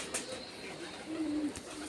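Faint cooing of pigeons inside a closed coop, a low soft coo rising briefly near the middle with a couple of tiny higher chirps around it.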